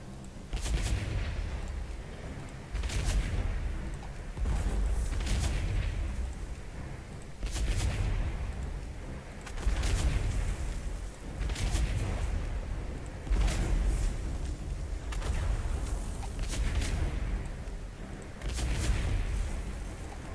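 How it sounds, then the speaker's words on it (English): Repeated turret blast explosions from World of Warcraft, heavy booming impacts arriving roughly every two seconds in a steady rhythm, loud and continuous with rumbling low end, no voices. "turret blast, fire an explosive down upon the battlefield, mortally wounding all enemies in the blast"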